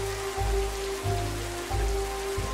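Steady rain falling in a rainy hillside village in India, a continuous dense patter, loud and close, with a rhythmic low thumping running underneath.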